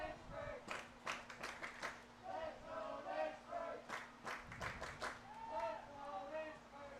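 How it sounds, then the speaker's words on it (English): Spectators at a UPSL Virginia final soccer match clap in sharp, rhythmic bursts with scattered shouts, heard from the stands at moderate distance under a commentator's voice. "And the crowd starting to come alive here."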